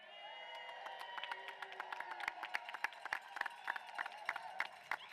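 Graduation commencement crowd at a college class of 2025 ceremony cheering, with scattered claps, whoops and shouts rising over a steady murmur, fairly distant and building in intensity.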